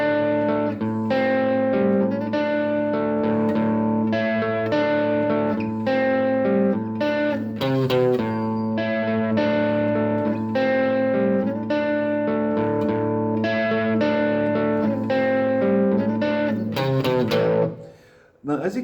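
Electric guitar with light overdrive plays a riff: a steady, loud run of ringing picked notes and chords that fills the whole stretch, then cuts off briefly near the end.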